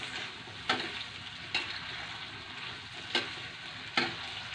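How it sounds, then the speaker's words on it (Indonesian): Bean sprouts, anchovies and lime leaves sautéing in a pan, a soft continuous hiss of frying broken by four sharp spatula scrapes at uneven intervals. "Tumis toge, teri, ada daun jeruk guys"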